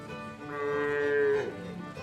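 A cow in a green grass pasture gives one drawn-out, rising and falling moo, close and clear over a soft outdoor background.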